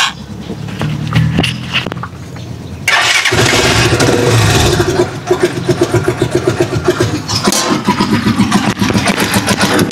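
Rusi Chariot 175 motorcycle engine running on ordinary maintenance oil starts up after a quieter lead-in, then keeps up a loud, steady, slightly uneven low idle with a rattly mechanical texture, heard alone at close range.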